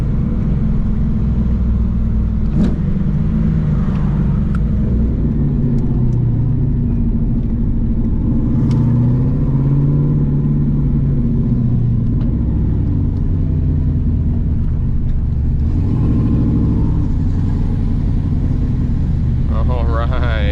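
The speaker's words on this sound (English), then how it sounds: "I guess I'll hit a couple clean downshifts up here" Modified 1997 Camaro Z28 engine rumbling steadily from inside the cabin through a couple of downshifts, with a swelling rev near the end; a voice talks over it intermittently.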